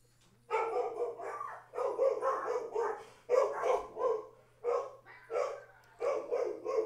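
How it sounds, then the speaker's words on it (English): Several dogs bark in repeated bursts over a low steady hum, loud and fairly close, the barks overlapping into a continuous chorus with brief pauses between volleys. "You're probably picking up some of the dogs in the background."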